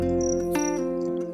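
A cricket chirping steadily and close, a continuous trilling buzz lasting the whole stretch with no talk.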